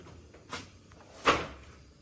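A drawer on a Milwaukee tool box slides open, with a soft knock followed by a sharper, louder clack, close by in a quiet room.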